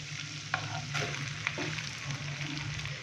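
Boneless chicken going into a pan of lightly fried garlic, with a steady, fairly loud oil sizzle running throughout and a few sharp bursts as pieces hit the hot fat.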